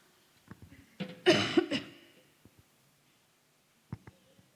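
A short burst of coughing up close, a couple of harsh hacks close together, followed by quiet with a few faint clicks.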